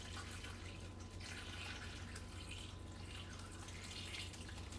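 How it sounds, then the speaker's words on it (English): Two cups of water pour steadily into a crock pot holding seasoned brisket, a soft continuous splashing trickle heard close up and fairly quiet for several seconds. "We're going to add 2 cups of water."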